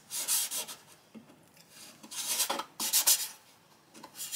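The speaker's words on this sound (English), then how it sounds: "We want to take an awl and get to those holes we pre-drilled" An awl scrapes into pre-drilled holes in an ES-175 style guitar kit body, giving short irregular rubbing scratches in a few bursts separated by quiet gaps, close and with no talking.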